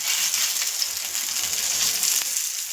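Chicken keema cutlets sizzle in a pan over a high flame, giving a steady, bright, crackling hiss that holds evenly throughout with no voices.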